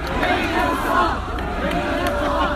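A record-setting crowd at a political rally roars and chants together, a loud, sustained wall of voices with rhythmic shouted cheering throughout.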